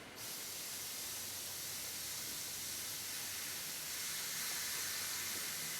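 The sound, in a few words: airbrush spraying paint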